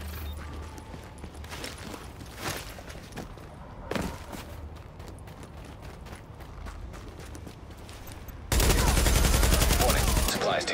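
Bursts of video-game gunfire crackle through a battle scene in a Negan-themed game, with scattered shots over the first eight seconds, then a loud, dense sustained volley near the end; a voice speaks briefly over the action.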